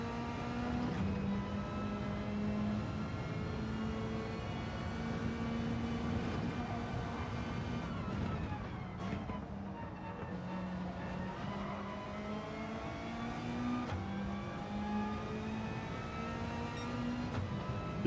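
Race car engine in Gran Turismo 7 holding a steady high drone with harmonic whine, rising and falling gently through gear and throttle changes, loud and continuous throughout with no talk.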